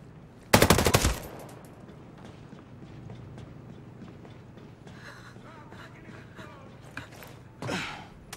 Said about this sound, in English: I'm literally shooting with, like, no suppressor